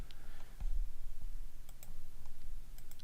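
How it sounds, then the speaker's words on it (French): A computer mouse clicks a few times, crisp and close, while selecting faces in CAD software, sparse taps over a low steady hum. "Puis je clique sur la face"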